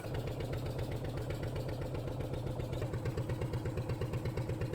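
A boat engine runs near a sandy sea beach with mangrove forest, a low, steady rhythmic chugging thrum, close and continuous with no talk.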